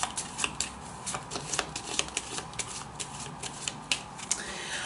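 Tarot cards are shuffled in a rapid run of soft, crisp flicks and riffles, close and quiet, with no talking over them.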